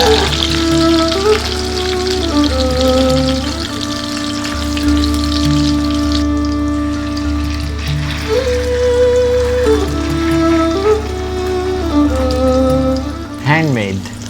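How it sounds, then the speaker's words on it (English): Handmade chicken seekh kebabs frying in oil make a steady loud sizzle and crackle throughout, with music playing along underneath. "Handmade Seekh kebabs are cooking up."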